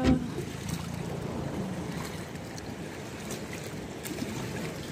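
Steady low rumble of fishing boats on open sea, engine drone and lapping waves with light wind, continuous and fairly close.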